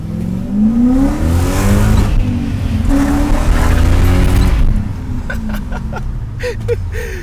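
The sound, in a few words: BMW 540 car drifting on wet road, both tires spinning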